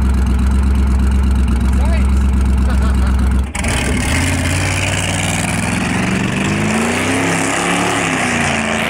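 A car engine runs hard on a dynamometer with a dry ice cold air intake, a loud steady drone with low idle-like pulsing that rises into a broader roar partway through, with people talking over it.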